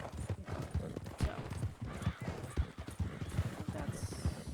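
Horse hooves clip-clop steadily at a walking pace in Red Dead Redemption 2, a continuous rhythmic patter that fills the stretch with no talk over it.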